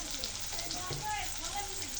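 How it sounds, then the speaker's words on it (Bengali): Potatoes fry in hot oil with a steady, close sizzle and crackle, stirred as they cook, with a voice murmuring faintly underneath. "আলুগুলো ভালো করে ভেজে নেব"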